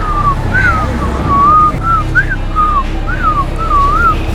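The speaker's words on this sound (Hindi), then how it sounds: "उसको देख के सीटी नहीं बजाई, वैसी सीटी बजा रहा हूँ।" A man whistling a repeated short rising-and-falling tune, clear and close, several brief whistled phrases in steady succession over a low background rumble, no speech.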